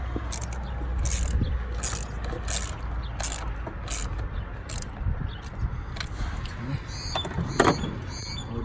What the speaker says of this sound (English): Then you tighten it up to a 10 millimeter socket.